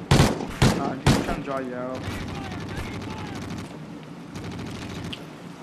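Sniper shots in a multiplayer shooter game, three heavy booming reports in the first second or so, followed by lighter scattered gunfire while someone talks over the action.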